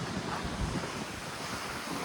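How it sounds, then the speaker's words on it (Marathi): Strong wind buffets the microphone at Navgaon beach near Alibag, with surf rolling in underneath, a loud, rough, continuous rumble with gusty swells and no voices. "भन्नाट वारा सुटला."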